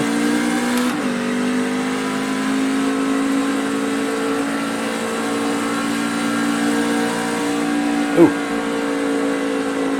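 A NASCAR truck engine from the iRacing sim at Watkins Glen holds a steady, loud mid-pitched drone through the whole stretch, with a brief sharp click near the end.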